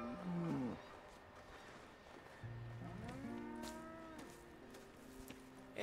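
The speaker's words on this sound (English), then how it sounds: "Here's the cows." Cows lowing on a Red Dead Redemption 2 dairy ranch, two or three long, drawn-out moos, close and moderately loud over a quiet outdoor background, with no talking.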